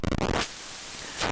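A Hexinverter VCNO synthesizer module puts out a harsh, buzzy sizzle with its sizzle control cranked up, a loud burst that drops to a thin, quieter static hiss and then swells back up.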